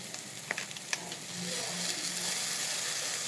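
Soy sauce hits a hot frying pan of savoury snack mix, bursting into a loud, dense sizzle after a few light utensil taps, the hiss holding steady and close.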